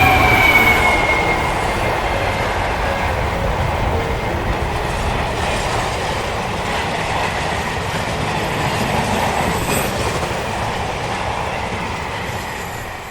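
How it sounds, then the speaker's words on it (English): A train rolls steadily past a railway crossing in the corner of a field on a chilly, misty day, a loud continuous rumble of wheels with faint squeals throughout. "I came to a railway crossing in the corner of a field."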